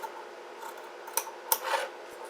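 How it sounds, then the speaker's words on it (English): Scissors snipping through a t-shirt, close and fairly quiet, giving a few sharp crisp cuts amid soft rubbing and sliding of fabric and blades. "You can see I got my scissors caught somehow"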